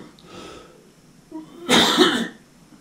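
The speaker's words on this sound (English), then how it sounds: "Let me just cough first." A single loud, close cough bursts out during a pause in an indoor interview, with quieter murmuring before it.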